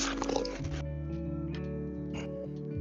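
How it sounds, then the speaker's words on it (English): Several dogs gathered on a porch in rural Mississippi, with a short burst of barking or yipping near the start and then quieter whimpering sounds over a steady low hum. "All the dogs are here."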